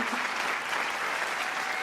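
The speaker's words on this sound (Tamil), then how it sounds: "ஒரு அரங்கு நிறைந்த கைத்தட்டல்களால் எங்கள் நன்றிகளையும் வாழ்த்துக்களையும் சொல்லி" A packed hall audience of Tiruppur townspeople at a Diwali special debate show claps in strong, unbroken applause, a thick and even roar of hands that fills the room from start to end.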